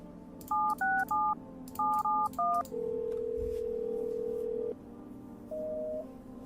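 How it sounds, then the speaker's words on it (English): Touch-tone phone dialing in a video game: two quick bursts of three beeping keypad tones, then a long steady tone and a shorter final beep, clear over a low background hum. "Let me give her Pops a call."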